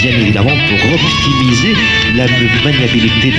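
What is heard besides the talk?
No everyday noise stands out behind the speech.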